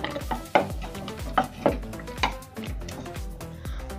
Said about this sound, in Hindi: इसे अच्छे से चला देते हैं